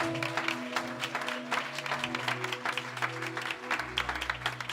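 Church congregation applauding for a servant of God, a dense steady clatter of many hands filling the room, with sustained organ or keyboard chords underneath.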